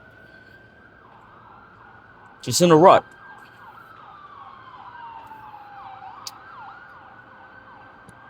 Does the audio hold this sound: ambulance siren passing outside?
yes